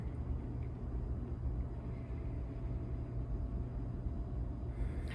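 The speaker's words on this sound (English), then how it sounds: "And I can hear the hum of traffic, cars driving past on the street below." Low traffic hum from cars driving past on a street below, heard from indoors as a faint, steady rumble with no distinct passes and no voices.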